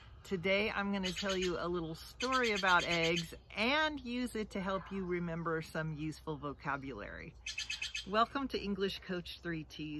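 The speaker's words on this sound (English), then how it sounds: "You might hear the birds in the background peeping a lot" Small birds peep and chirp steadily in the background throughout, high and fairly faint beneath someone talking continuously in the foreground.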